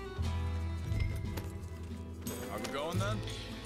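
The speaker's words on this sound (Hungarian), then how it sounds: "Van egy ló a játékban," Horse hooves clip-clopping in the open-world Western game Red Dead Redemption 2, a steady close trotting rhythm mixed with game music and ambient bird calls throughout.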